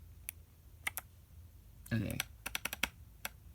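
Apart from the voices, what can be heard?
typing on 8BitDo retro mechanical keyboard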